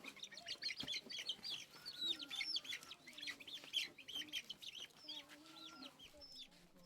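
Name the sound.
chicks taken out of a basket, chirping and clucking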